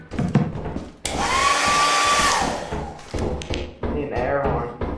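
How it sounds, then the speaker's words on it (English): A hair dryer item in the video game Lethal Company switches on with a loud, steady whoosh that runs about a second and a half, with thumps and brief game noises around it. "I got a hair dryer."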